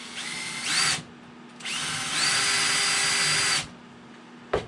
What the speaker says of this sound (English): I'm just gonna pierce a hole in the middle